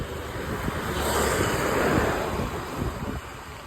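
Blustery wind buffets the microphone over a broad roar of surf, swelling then easing off toward the end.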